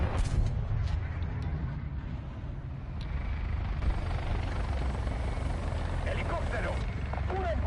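A helicopter drones loudly and continuously in the War Thunder battle, its rotor rumble dominating the low end while distant gunfire and explosions crackle around it and a voice calls out over the noise.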